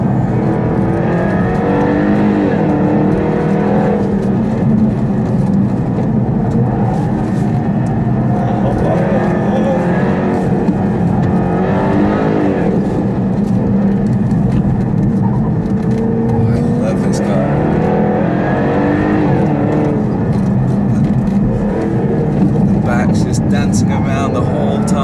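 A 2015 Dodge Hellcat, Charger or Challenger, roars under hard throttle while its rear tyres spin, the loud engine note holding steady and rising as it pulls away, with someone talking over it throughout.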